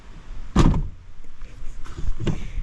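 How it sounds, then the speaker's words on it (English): The door of a 1997-2004 Ford F150 pickup, repaired for hinge pin sag, swings shut with a solid thud, followed by a couple of softer latch and handling sounds. "That's a nice closing door."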